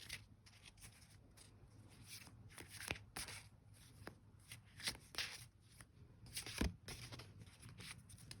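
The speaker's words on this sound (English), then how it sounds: "I'll start to shuffle the cards." Oracle cards being shuffled, soft riffling and flicking in repeated bursts, close and quiet, with no talking.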